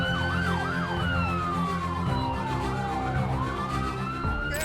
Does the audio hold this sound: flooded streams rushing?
no